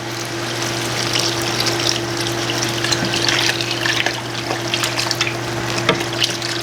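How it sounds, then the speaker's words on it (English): Water poured into a pot of food on the stove, a steady wash of pouring and bubbling with a low hum underneath, continuous and close at moderate loudness. "I'm going to add water to mine instead of broth"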